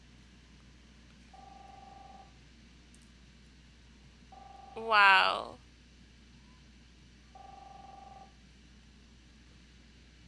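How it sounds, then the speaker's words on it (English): A telephone rings in three spaced, even bursts inside the home of the video game Captain Spirit, alone in a quiet room, with a brief exclamation from a voice between the rings. "answer the phone, please"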